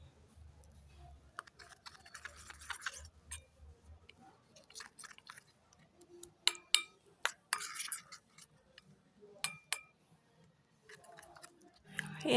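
Beetroot face pack being stirred together with rose water in a bowl, giving soft wet scraping and irregular tapping clicks of a utensil against the container, close and moderately quiet, with sharper knocks clustered toward the end.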